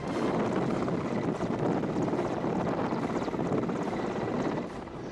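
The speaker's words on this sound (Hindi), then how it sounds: "भारत में हुए एयर शो में भी सारंग हेलीकॉप्टरों ने अपने करतब से देखने वालों को हैरान कर दिया।" Indian Air Force Sarang team helicopters fly at an air show, producing a steady, loud, broadband rotor and engine roar with wind noise that holds throughout and eases slightly at the end.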